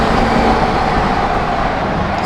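A twin-turbo Lamborghini supercar roars through an underpass with the windows down, a loud continuous engine drone reverberating off the concrete walls, close and unbroken for the whole stretch.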